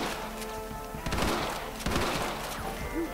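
Gunfire in the Red Dead Redemption video game, a dense rattle of distant shots layered under background music and ambience, fairly faint and continuous.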